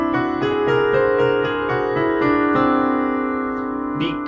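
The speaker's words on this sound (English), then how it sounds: "So our whole tone scale sounds like this." A whole tone scale plays as a run of clear sustained tones stepping through successive pitches, each note distinct and ringing alone without talk.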